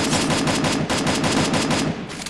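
Rapid bursts of automatic gunfire in the video game Free Fire rattle in quick succession, loud and close, with short gaps between volleys.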